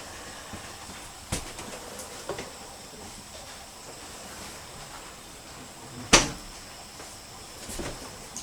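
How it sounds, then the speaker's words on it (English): Cabinet doors come off inside a 1984 Corsair Tag-a-Long camper during renovation, with scattered knocks and clatters over a steady low rumble and one sharp, loud bang partway through. "He's taking off all the cabinets, doors off"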